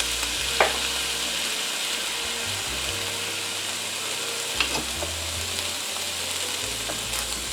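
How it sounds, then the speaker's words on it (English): Onions and canned carrots sauté in a pan with a steady, close sizzling hiss, a low hum underneath and a few faint clicks of stirring. "And just let these saute for about 7 to 10 minutes."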